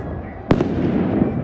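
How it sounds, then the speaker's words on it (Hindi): Fireworks burst in the night sky during Makar Sankranti celebrations in Jaipur: one sharp, loud blast followed quickly by a fainter second crack, over a steady background murmur of a crowd. "और अब पूरा आसमान लालटेन और आतिशबाजी से"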